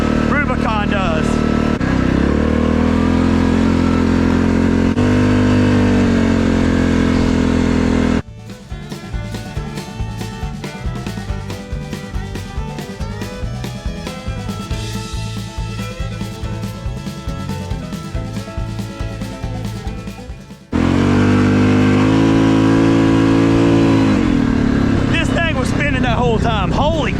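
A Yamaha Grizzly ATV engine roars close and loud, revving up and down, then drops into a lumpy, rhythmic idle for several seconds before surging back to high revs.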